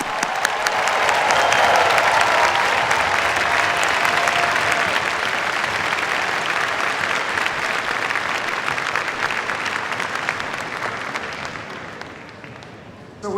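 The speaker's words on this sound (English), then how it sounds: "And let's end with a huge round of applause for our amazing PhDs." A large graduation-ceremony audience for new computer science PhDs breaks into sustained, dense applause that swells loud at first and slowly thins toward the end, with no voices over it.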